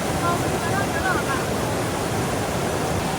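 A swift river at Limau Gadang Lumpo, crossed by schoolchildren, rushes past in a loud, steady, close wash of water noise with no break.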